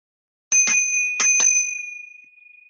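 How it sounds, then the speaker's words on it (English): A small meditation bell is struck a few times in quick succession, its clear ring lingering and slowly fading into silence. "the bell will call us to the next moments of our evening and awareness"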